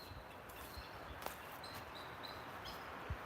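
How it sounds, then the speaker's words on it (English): Birds call outdoors at night along a hiking route, their faint, high chirps repeating in short bursts over a low hiss of background noise, with a few soft bumps. "Man, those birds are loud."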